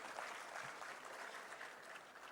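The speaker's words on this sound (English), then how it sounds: "So give yourself a round of applause." An indoor audience at a talk session in Lucknow claps steadily, a dense, even wash of applause from many hands throughout.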